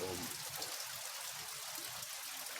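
Rain pours steadily on a rainy-season day in the Philippines, a continuous dense hiss of falling water with a watery trickling quality, even and unbroken throughout with no voices.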